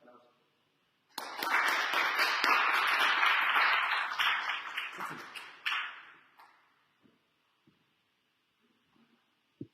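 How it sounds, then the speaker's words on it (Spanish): An audience bursts into loud, dense applause that holds steady for several seconds, thins out, flares briefly once more, then fades to near silence with a few scattered sounds. "le pido por favor a los que estamos aquí un fuerte aplauso"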